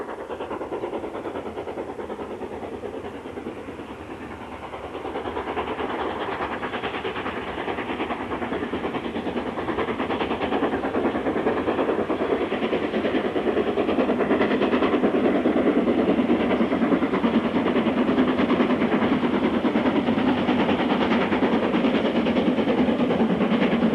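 Steam locomotive 46203 runs on the main line, a continuous rumbling roar of the train that swells and grows louder over about twenty seconds, heard alone without speech.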